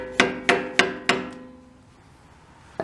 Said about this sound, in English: with a hammer, and just kind of bend it over until it looks like it's enough so that you can take the nut off.